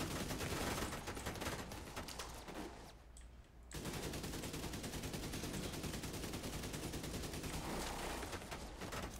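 Rapid automatic gunfire from The Division 2 rattles on almost without pause, breaking off for about a second before resuming at full intensity.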